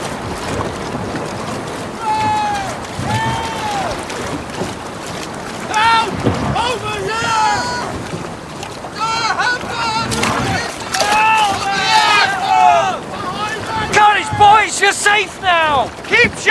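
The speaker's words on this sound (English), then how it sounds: "Launch boats pick up survivors?" Sailing-era ship's boats are launched and rowed out at sea to pick up survivors amid wind and water noise, with creaks and splashes under shouted voices throughout.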